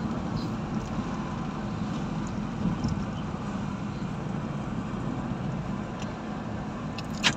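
Toyota Corolla EE100 with a carburetor and disabled BVSV vacuum valves on a test drive, steady broadband engine and road rumble from inside the cabin, even and continuous with no talk.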